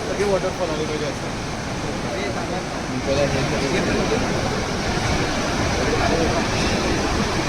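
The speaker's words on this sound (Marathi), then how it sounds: "हा वर्षाचे बारा महिने धबधबा असतो" A steady, dense roar of rushing water fills the whole clip, broad and continuous like a waterfall, with faint talk now and then.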